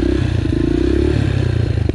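Yamaha TTR dirt bike engine during wheelie practice, a loud close buzzing rev with steady throttle and a slight clatter, briefly dipping near the end.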